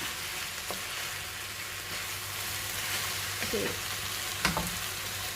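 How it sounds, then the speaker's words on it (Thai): Rice stir-frying in a pan as chili goes in, a steady sizzle with occasional scrape and clack of the utensil against the pan, moderately loud and close, no talking. "ในระหว่างที่เราผัดข้าวอยู่เนี่ยเนาะ ให้เข้ากันเราก็ใส่พริกลงไปจ้ะ"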